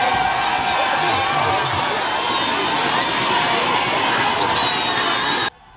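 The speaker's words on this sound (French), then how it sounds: "escortés par la population dans une procession sur près de 3 km avec chants, danses et cris de joie" A large crowd in a street procession of about 3 km in Mitwaba, singing, dancing and shouting with joy, loud and continuous, with dense cheering voices throughout before cutting off abruptly near the end.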